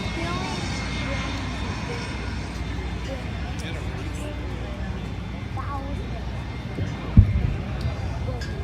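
A light aircraft races down the runway at the Redlands, California air show, a steady droning engine roar under a loud public-address announcer talking, with a brief thump near the end.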